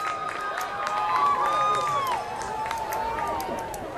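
A high school football crowd at West Forsyth versus Northview cheers and shouts through a second-half opening drive, with many overlapping voices whooping and yelling at steady, loud volume, rising slightly in the middle.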